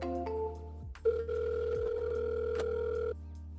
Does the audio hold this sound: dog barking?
no